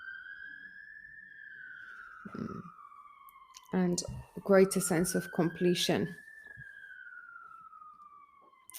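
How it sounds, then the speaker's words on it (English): A wailing emergency siren rises and falls faintly in the distance, continuing steadily while someone talks over it in the foreground. "you can hear those lovely sirens in the background"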